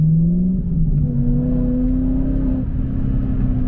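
A supercharged BMW 645 6 Series with a manual gearbox drives with a loud, close engine drone whose pitch climbs steadily as it revs, with a deep rumble and a steady supercharger whine layered over the exhaust note.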